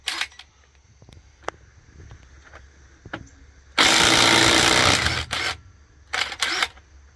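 A 1/2-inch drive impact wrench with a VEVOR shallow impact socket works a lug nut: a loud rattling burst of about a second, then shorter bursts, with scattered clicks and handling noises between.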